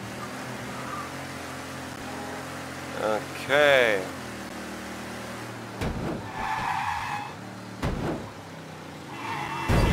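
Car racing and skidding in the video game Mafia 3, with a steady engine drone broken by a couple of sharp tire squeals and skids, and someone talking briefly over it.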